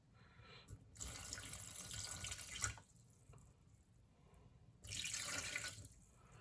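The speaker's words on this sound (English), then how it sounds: "we're going to add some of this brine back. You can see it filling up all the gaps there." Kimchi pickle brine poured into a jar, a close, steady splashing stream in two bursts separated by a quieter pause, with no voices.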